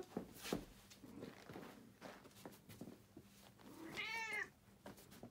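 A pet cat gives one clear, drawn-out meow with a bleating, sheep-like quality, close to the listener, among soft footsteps and rustling.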